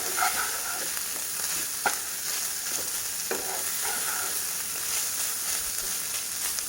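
Masala ingredients, including grated coconut, fry and get stirred in a pan for a couple of minutes, giving a steady close sizzle broken by a few sharp utensil scrapes, with no talking.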